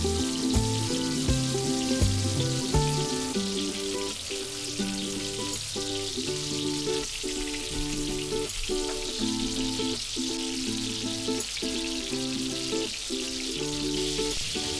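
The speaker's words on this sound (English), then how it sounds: "simply fry the kebab until it is nice and dark brown, as it will give it a nice flavor and it will also make it super crispy" Beef chatkhara kebab frying in hot oil, a steady dense sizzle and crackle throughout, with music playing over it.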